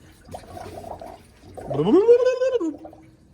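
Coolant gurgles and glugs into the cooling system of a 1962 Dodge D200 pickup, a close, bubbly pour that swells into a rising, throaty gurgle before trailing off.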